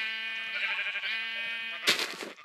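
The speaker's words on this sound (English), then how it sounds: "oh yes kill the sheep faster" A sheep bleats in a Minecraft Naruto mod video game, one long wavering bleat up close, followed by a short noisy burst of game sounds.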